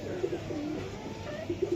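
Big-size Kaldom pigeons in a bird market give a few soft low coos close by, the short throaty calls rising and falling over a quiet murmuring background.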